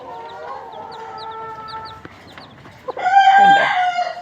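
A native country hen with newly hatched chicks feeds them; high, thin peeps from the chicks come first, then the hen's loud, close, harsh clucking calls take over.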